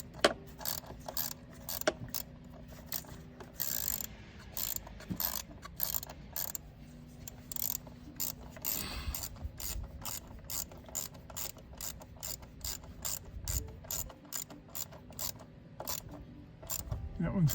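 A ratchet clicks in rapid repeated bursts while fuel rail bolts on a 2004 Yukon are tightened, close and crisp, with faint talk and mechanical handling between strokes.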